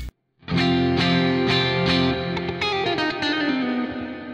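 Electric guitar played through a Neural DSP chain of noise gate, compressor, Gojira cab and reverb with EQ, ringing distorted chords struck in a steady rhythm with a reverb tail, loud and alone.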